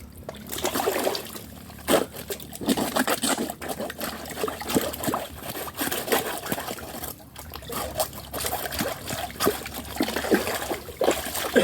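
Running water splashes and trickles steadily while something is rinsed and washed by hand, a continuous close wet rush with irregular splatters and no speech.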